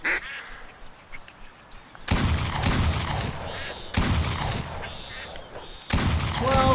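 Loud gunshots ring out three times at ducks in the Duck Dynasty video game, each blast followed by a decaying tail, with duck quacks and calls sounding faintly between shots.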